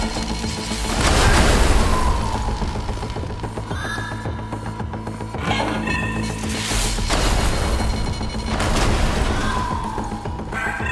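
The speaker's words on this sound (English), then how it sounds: "Explosion catapult." Explosion catapult firing in the puzzle game The Entropy Centre, three loud booming blasts with crashing, rushing tails at roughly three-second intervals, with no voice.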